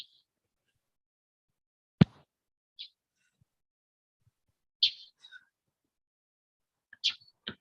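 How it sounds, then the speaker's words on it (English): A bird chirping from a rooftop, a few sharp isolated chirps spaced seconds apart, fairly faint and distant in a quiet outdoor setting with small scattered clicks between. "He's on the other side of the roof, but he's still chirping."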